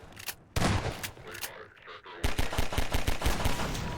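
Rapid gunfire in Half-Life 2: Episode 1, opening with a few sharp shots, then a pause, then a long dense burst of automatic fire close by, loud throughout.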